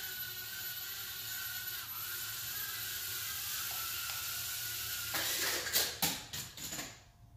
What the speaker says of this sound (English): So I got this little baby drone,